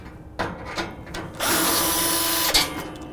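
Power driver backing Torx fasteners out of a Rittal TS8 cabinet back panel, with short clicks and handling knocks, then a steady whirring spin of about a second and a closing clunk, fairly quiet and close.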